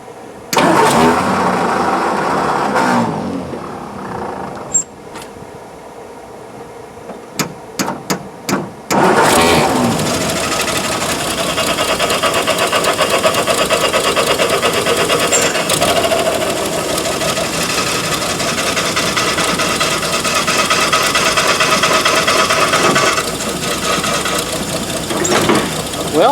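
An old Rambler car engine cranks in a few short bursts before catching, then runs loud and rough at a steady idle close by, with a person's voice briefly heard.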